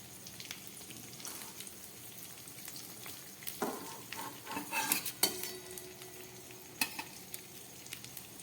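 Stuffed pointed gourds (potol) fry in oil with a quiet, continuous sizzle, while louder clinks and scrapes of a spatula against the pan come and go in short bursts.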